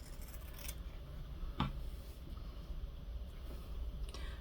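Paper being trimmed with scissors at a craft table: quiet snips over a steady background hum, with one clearer cut standing out near the middle.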